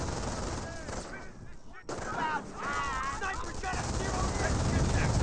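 MG42 machine gun and rifle squads trade fire in the World War II strategy game Company of Heroes, dense crackling bursts running continuously with distant booms, a commentator talking over the battle throughout.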